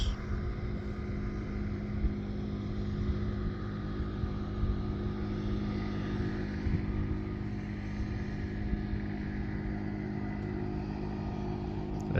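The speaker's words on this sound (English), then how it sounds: "Maybe these people are testing the boats" Motorboats running near a marina on Jackson Lake, a steady droning engine hum that holds constant and close throughout, with no voices.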